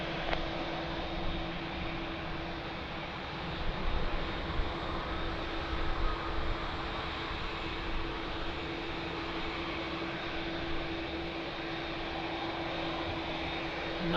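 An airplane lands at Lisbon Airport with a loud, sustained roar of engine and rushing air and a steady tonal whine on top, holding level the whole time with no voices.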